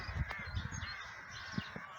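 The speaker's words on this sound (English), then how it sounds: "you can see all the crows flying around there" Crows caw from trees along an off-trail bypass walk, several short harsh calls scattered over about two seconds, faint and distant over steady outdoor background noise.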